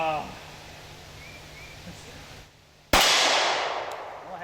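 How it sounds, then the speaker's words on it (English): A single sharp, loud report from a Smith & Wesson M&P Shield .45 ACP pistol fired at a bowling pin, cutting in abruptly after a quiet outdoor stretch and trailing off with a long decaying echo. "Let's try to hit that bowling pin with a big old 45"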